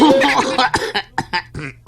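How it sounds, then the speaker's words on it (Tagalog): Someone speaks briefly, then breaks into a run of about five short, harsh coughs, close up. "ubo ka lagi"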